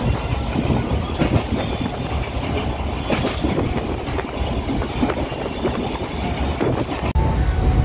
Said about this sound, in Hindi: गाइस, तो अभी मैं ट्रेन में खाना खा रहा हूँ